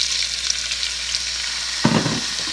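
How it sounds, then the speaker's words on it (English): Sesame oil, garlic and shrimp frying in a pan: a loud, close, steady sizzle with a sudden burst of crackle and a stirring scrape near the end, no voices. "And let's throw the sesame oil in. Along with the garlic and the shrimp."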